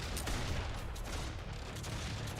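Dwarf turret in Warhammer Online firing a steady stream of rapid shots, dense and continuous throughout with a low rumbling underlayer and no pauses.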